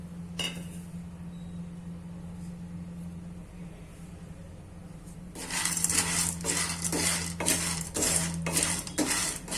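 Dried mango seeds roast in hot ghee over a low flame; after a quiet stretch with a low hum, a metal spoon scrapes and clinks against the pan in repeated close, rhythmic strokes.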